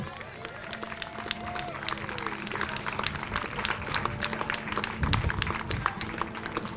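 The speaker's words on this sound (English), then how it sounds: "All right, give them a round of applause." A crowd at an outdoor library groundbreaking ceremony claps in a continuous, moderately loud patter after the ceremonial dirt shoveling, with some voices and background hum underneath.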